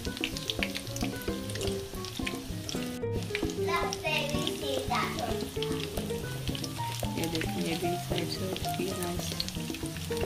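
Cheesy bread fingers frying in hot oil, a busy crackling sizzle with sharp pops running steadily throughout, mixed with some kitchen clatter.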